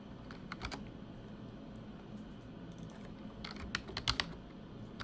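Light computer keyboard typing, scattered clusters of quick close keystrokes over a steady low room hum, with no voices.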